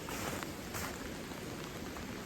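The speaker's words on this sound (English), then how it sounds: "It's been just hammering down rain." Steady, dense rain pouring down in the remote British Columbia backcountry, a continuous broadband hiss of drops pattering on surfaces with no gaps and no voices.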